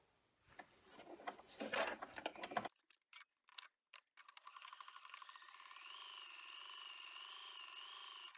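Embroidery machine stitching a face mask seam in the hoop. Scattered handling clicks come first, then the machine runs in a fast, steady mechanical chatter with a rising whir, close and fairly quiet.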